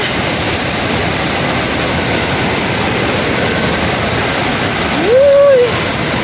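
Flood water rushes across a road during heavy rain, a steady broadband roar filling the scene with no pause, joined near the end by a brief rising-and-falling tonal whistle.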